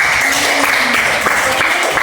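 Children clap together in a classroom during a lesson on the Hajj, a brief, steady burst of applause lasting about two seconds with a voice faintly underneath.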